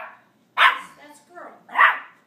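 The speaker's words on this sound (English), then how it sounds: "A lot of barker here." Puppies bark in a basement, giving two loud, close yaps with softer yips between them, while a person's voice is also present.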